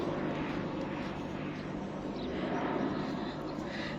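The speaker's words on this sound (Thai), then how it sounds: "เครื่องบินนะคะ" An airplane flies overhead, giving a steady, broad roaring drone that stays fairly even and moderately loud for the whole stretch, with no voices.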